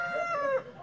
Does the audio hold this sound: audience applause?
no